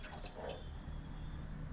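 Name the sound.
water being poured into a pan for brinjal curry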